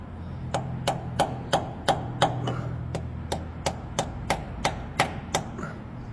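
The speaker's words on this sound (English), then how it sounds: "You can take a hammer, let it cool down," A hammer taps repeatedly on a rusty welded Ford exhaust manifold, about fifteen sharp metallic knocks in a steady rhythm, close and clear over a faint low hum.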